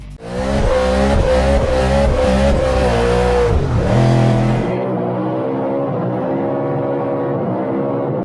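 A BMW M3 GTS engine in the Need for Speed games revs hard through several rising gear pulls, loud and close, then drops to a lower steady drone after a gearshift with no talking over it.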